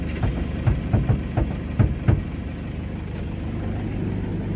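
A Toyota Innova's engine idles before the car reverses, a low steady rumble with a few soft thumps early on that settles into an even hum.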